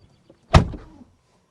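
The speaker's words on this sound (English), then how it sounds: "closing up the door" The driver's door of a 2026 Porsche 911 Carrera 4S shuts from inside the cabin with a single solid, close thunk and a short, damped rattle of the latch settling, then quiet.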